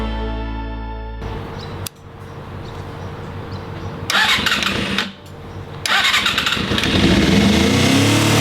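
A Suzuki GSX250F Across motorcycle with a freshly cleaned carburettor cranks and catches, then runs unevenly with a couple of blips and rising revs. The engine is close and loud, with no speech.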